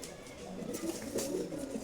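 Low, soft cooing from male pigeons, a continuous murmuring burble with a few rounder coos rising over it.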